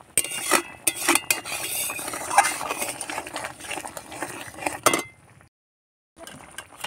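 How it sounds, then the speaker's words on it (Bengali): Masala with cashews being stirred in a pan for prawn dopiaza, a metal spoon scraping and clinking against the pan in quick irregular strokes, close and fairly busy, then stopping abruptly into a short silence before resuming faintly. "আর একটু বারে বারে নাড়তে হবে, কারণ কাজু বাদাম দিয়েছি নিচে ধরে যেতে পারে।"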